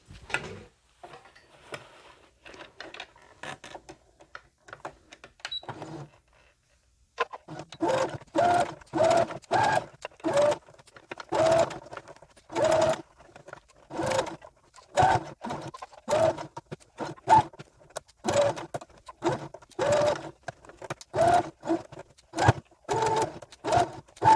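Sewing machine stitching a doll-sized backpack runs in repeated short bursts of rapid mechanical stitching, close and steady, after a few seconds of scattered quiet handling noises at the start.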